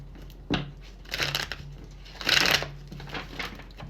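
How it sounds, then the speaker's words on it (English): Tarot cards shuffled by hand in a few separate riffling bursts, close and fairly quiet, with short gaps between them. "One more shuffle for Leo."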